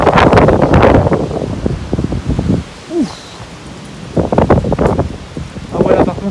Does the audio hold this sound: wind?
yes